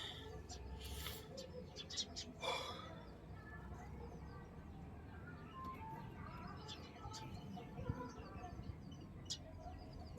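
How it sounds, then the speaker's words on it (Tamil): Sparrows chirping in short bright bursts, scattered and fairly near, over a busy background with some human voices. "குருவி"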